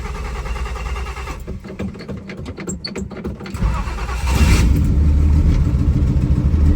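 A turbocharged slant-six 1963 Plymouth Valiant, a Mopar, idles roughly, then revs up and settles into a loud, steady engine roar up close as the car is moved.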